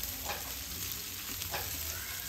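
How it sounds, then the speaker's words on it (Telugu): Prawn masala curry sizzling in a pan while a silicone spatula stirs it, with a steady frying hiss throughout and two or three soft scraping strokes; no voices. "ఒకసారి కలుపుకుంటున్నాను చూడండి."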